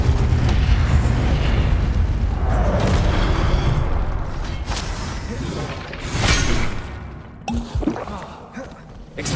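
Confringo spell blasts in the video game Hogwarts Legacy, a loud booming burst with a roaring rumble that lingers and fades, followed by smaller crackling impacts and pops.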